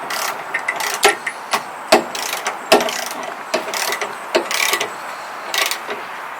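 End wrench turning a bolt on an Andersen trailer hitch, giving a series of close, sharp metallic ratcheting clicks and taps in an irregular rhythm, with no talk.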